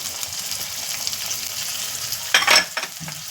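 Onion fries in a pan with cumin tempering, a steady low sizzle broken by a couple of sharp scraping stirs of a spoon near the end.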